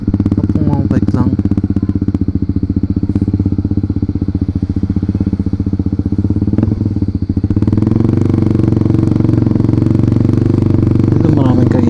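Motorcycle riding on a quick trip around Clark, the engine's steady close throb running the whole time and growing louder and rougher in the second half, with a voice speaking over it.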